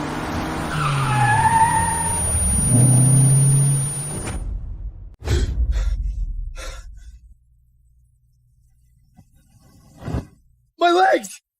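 A car skids and crashes in a dramatic scene, with a loud tire-skid burst under shouting voices, a heavy impact, then quieter fading noise and a few later bangs.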